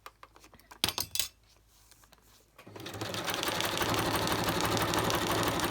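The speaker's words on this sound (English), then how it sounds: "I figure if my sewing machine can sew all the stuff that it sews" A home sewing machine stitching through a sheet of clear acetate, starting after a few clicks and taps, then running in a fast, steady, loud whirring drone until the end.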